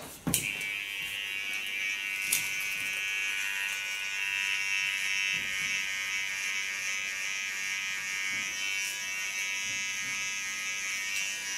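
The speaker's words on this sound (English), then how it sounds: "Do this with the latest clipper of Fiona." Electric hair clipper running steadily through a nape shave on a woman's blond hair, a continuous close buzzing hum with no break, alone without talk.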